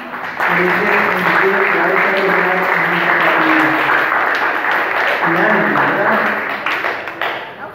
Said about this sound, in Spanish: damos un aplauso a Yasmina